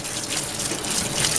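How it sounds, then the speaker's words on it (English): Hot running water gushes steadily from a tap over Yukon Gold potatoes being rinsed, a continuous close splashing hiss with no talk. "we just give these a quick little rinse with hot water to get the starch"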